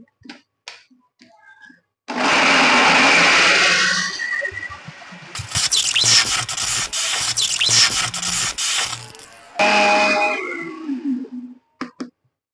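A kitchen mixer grinder whirs loudly in several bursts of a few seconds each, with short clicks and pauses between runs, close by and with no talk.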